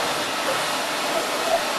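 A BigFoot Vac sweep nozzle pulls strong suction over a surface, producing a loud, continuous roaring rush of air that stays steady and close throughout.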